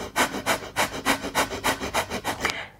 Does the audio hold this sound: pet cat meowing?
no